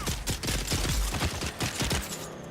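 Rapid bursts of gunfire from a Dune survival video game, a dense fusillade of closely spaced shots running nearly continuously for the whole moment, loud and close.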